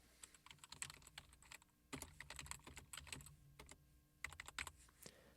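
Quiet typing on a computer keyboard, irregular bursts of light key clicks with brief pauses between words.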